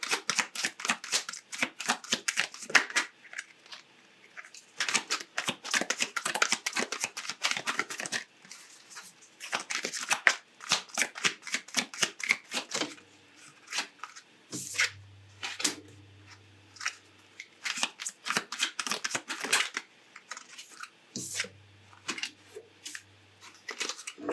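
Tarot cards shuffled by hand in a long series of rapid riffling bursts and soft slaps, close and crisp, with brief pauses and faint low thuds in between.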